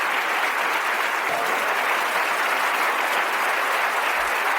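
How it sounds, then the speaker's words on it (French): Church congregation applauding a visiting sister at a Bible study gathering in Jacksonville, Florida: dense, steady clapping from many hands fills the whole stretch at an even loudness, with no talk over it. "nous voulons la recevoir avec beaucoup d'applaudissements et avec tout notre cœur"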